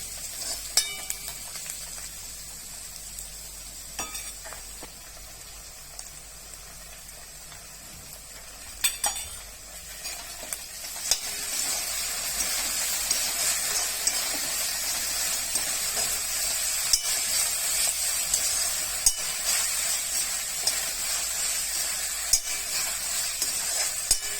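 Vegetables for veg fried rice stir-frying in a pan with schezwan sauce: a soft sizzle that grows louder and steadier partway through, punctuated by occasional utensil clinks and stirring scrapes.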